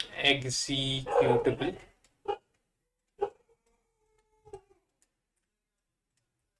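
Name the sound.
dogs barking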